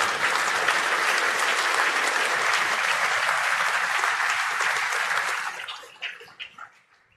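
Loud, sustained audience applause from a large crowd that fades out into a few scattered claps near the end.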